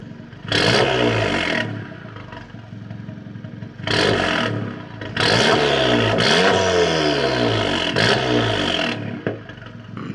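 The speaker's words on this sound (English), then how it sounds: "Let's get a couple little revs, see what she sound like." A Volkswagen MK7 GTI engine revs hard three or four times in bursts, a loud raspy sport exhaust roaring up and settling back to a burbling idle between.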